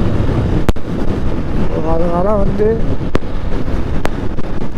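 Strong wind buffets a Honda Unicorn 160 motorcycle on the road, a heavy, continuous roar with sharp gust thumps at the microphone. A rider speaks over the noise.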